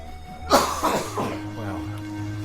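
A single close cough bursts out, followed by a few rougher throat-clearing coughs that trail off, with no talking.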